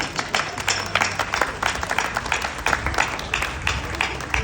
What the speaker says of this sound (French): On peut les applaudir très fort, vous avez raison.